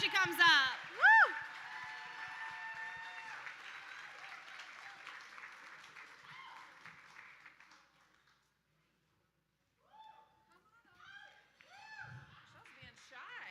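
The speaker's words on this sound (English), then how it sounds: "Give her another round of applause." Applause and whoops from an audience at a QLaw fundraiser gala, with a sharp cheer near the start, steady clapping that fades to silence, then scattered cheering and voices returning.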